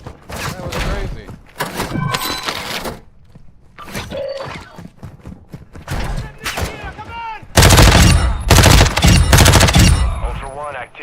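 Gunfire in Call of Duty DMZ: scattered single shots and short bursts, then a loud, sustained volley of rapid automatic fire near the end, with a voice talking between some of the shots.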